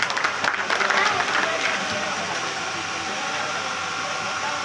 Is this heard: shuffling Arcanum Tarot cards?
no